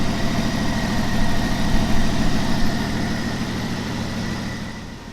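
A Jeep CJ7 engine idles steadily right after a power steering upgrade, a close, continuous low rumble with faint vibration that stays even throughout, with no talking.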